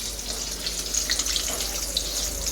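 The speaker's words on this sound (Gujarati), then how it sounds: "અને આ તળાય છે" Stuffed chillies frying in hot oil give a steady, close hiss and crackle of fine bubbling that continues without pause and without any talk.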